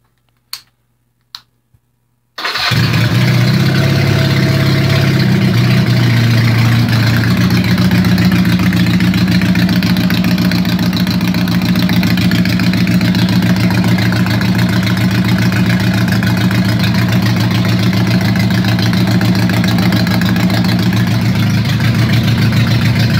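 A couple of sharp clicks, then a cold motorcycle engine fires up and settles into a loud, steady idle with a ticking, chugging rhythm.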